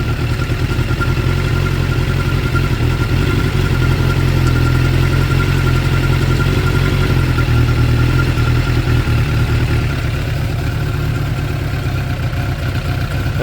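A 2006 Suzuki GSX 600F Katana motorcycle with a carburetor problem, its engine held at a steady raised rev, loud, close and droning with a rough buzzing texture for the whole stretch, no speech.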